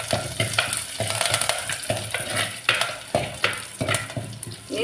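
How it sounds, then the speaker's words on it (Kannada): Crushed garlic, curry leaves and cut dry chilli fry in a tempering for mango saaru, with a close, constant sizzle and rhythmic scraping stirs in the pan. "ಎರಡು ಸಲ ಬೆಳ್ಳುಳ್ಳಿ, ಒಂಚೂರು ಗುದ್ದಿ ಹಾಕಿದ್ದೇನೆ, ಒಂಚೂರು ಸ್ವಲ್ಪ ಕರಿಬೇವು, ಮತ್ತು ಒಂದು ಒಣಮೆಣಸು ಕಟ್ ಮಾಡಿ ಹಾಕಿದ್ದೇನೆ"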